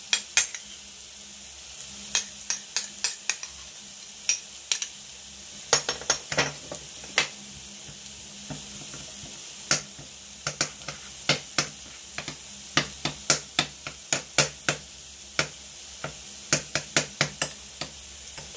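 Sauce with onion, paprika and garlic sizzles softly in a pan while a spoon stirs it, sharp clinks and scrapes against the pan recurring irregularly over a steady low frying hiss, nearby and without talk.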